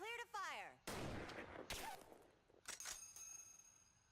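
Sniper rifle fire in an anime battle scene: loud, sharp broadband blasts in quick succession with ringing metallic tails, following a rising synthetic tone, with a brief voice in between.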